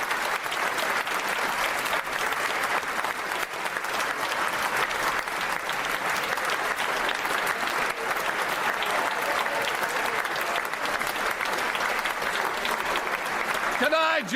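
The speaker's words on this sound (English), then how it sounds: "I'm sorry we're still clapping." Sustained applause fills the House of Commons as MPs clap for the departing Prime Minister, a dense, even roar of hands that lasts throughout.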